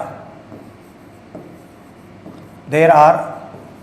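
Chalk scratching on a classroom board as a teacher writes during a science lesson on battery terminals: faint soft strokes under quiet room noise, then a louder, rougher stretch of rubbing scrawl near the end.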